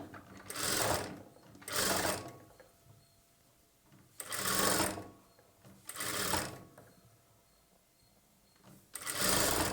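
A sewing machine attaches sleeves to a plain blouse in five short bursts of fast, whirring stitching, each roughly a second long and separated by brief pauses, close and clear.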